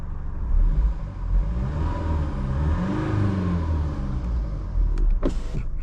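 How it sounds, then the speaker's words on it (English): A Range Rover Velar's 2-litre four-cylinder diesel runs close by with a gruff, uneven rumble and a few revs rising and falling, ending with brief clicks. "So this car has a 2-litre 4-cylinder diesel. Let's start it up."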